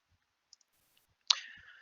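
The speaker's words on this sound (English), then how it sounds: "simply click on one of the accounts and type its associated password" A single sharp click logs into a POS system's account screen, followed by a brief fading tail after near silence.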